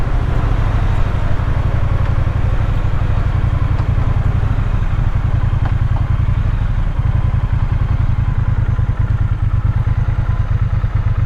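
A motorcycle ridden at speed, around 75 mph on a ride to the ocean, its engine droning loud and steady with wind rush for the whole stretch, with no break or change in pitch.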